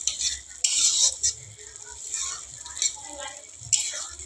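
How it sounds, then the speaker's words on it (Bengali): Masoor dal stirred in a pot with a spoon, a few close scraping and clinking strokes over a faint simmer. "কিছুক্ষণ পরে ঢাকনা খুলে একটু নাড়াচাড়া করে নিলাম"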